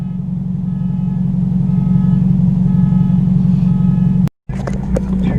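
A Hyundai Veloster engine fitted with blast pipes idles with a deep, throaty, pulsing exhaust rumble, steady and loud, then briefly cuts out before resuming rougher.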